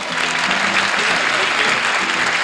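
Audience applause in a 1975 bluegrass performance setting, a dense steady wash of clapping that stays loud and even throughout the short stretch, with no one speaking over it.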